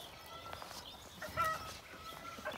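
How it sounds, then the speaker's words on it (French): Small flock of Silkie hens and a rooster clucking softly outdoors, scattered short calls with a brief louder squawk near the middle, against light background noise. "Et des poules splash au nombre de 5."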